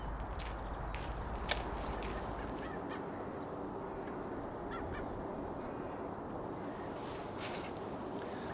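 Ravens and jackdaws call among a large gathering of birds in the Finnish autumn countryside, with scattered harsh caws rising over a steady, dense wash of background noise.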